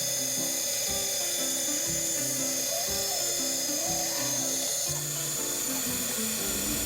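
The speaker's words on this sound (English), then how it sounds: "Now using the 9-inch grizzly bandsaw, we're going to carefully cut these as close to the lines as possible" A 9-inch Grizzly bandsaw cuts dagger shapes from wood, its steady machine whine running throughout with a shifting, stuttering cutting tone as the blade works along the lines.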